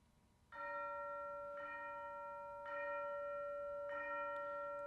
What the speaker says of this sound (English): the tolling bell for All Souls' Day